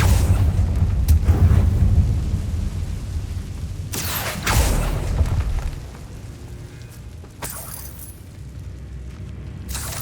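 In the game Hogwarts Legacy, a Bombarda explosion spell lets off a loud, low boom, and more bursts and rumbles follow over continuous game background sound.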